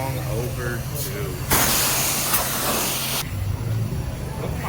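Pressure washer spraying down a Chevrolet Camaro ZL1 at a car wash, a loud broadband hissing burst in the middle of the clip that stops abruptly, with engine hum underneath.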